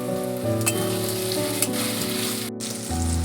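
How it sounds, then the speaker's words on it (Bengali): Chopped tomatoes frying with ginger-garlic paste for chicken ghugni, giving a loud, continuous sizzle with stirring and a steady hum underneath. "আদা রসুন বাটাটা দিয়ে একটু কষিয়ে নিয়েছি এবার আমি এখানে টমেটো কুচি দিচ্ছি"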